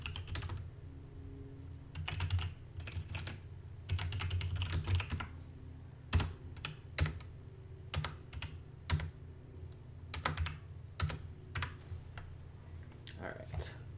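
Quiet computer keyboard typing, bursts of rapid clicks with short pauses, heard faintly beneath a low background hum.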